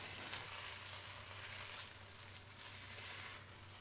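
Tomato puree and spices sizzle in a hot pan for rogan josh, a continuous close frying hiss with no talk over it.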